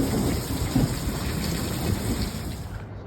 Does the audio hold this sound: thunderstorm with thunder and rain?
yes